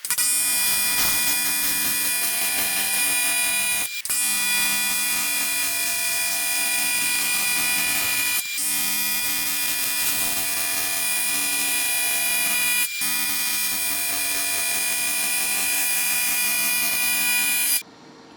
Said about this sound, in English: So we gotta weld this joint up and this joint up.